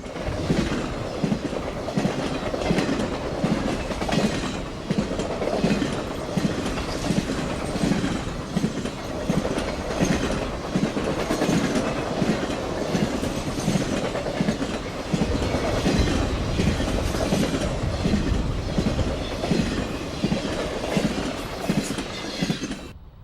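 A Norfolk Southern RoadRailer train on the Fort Wayne–Atlanta run rolls past on the New Castle District, a loud, sustained rumble with rhythmic clickety-clack from the wheels over rail joints throughout, no voices present.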